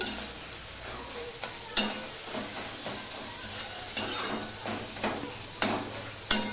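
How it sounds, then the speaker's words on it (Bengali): Greens being stirred and mashed with eggplant and tomato into a paste in a pan, a soft sizzle under repeated scraping and knocking strokes of a utensil, close but fairly quiet, with no talk. "এইভাবে সমানে ঘেটে ঘেটে একেবারে বেগুনের সাথে টমেটোর সাথে শাকের সাথে পুরো পেস্ট করে নেব"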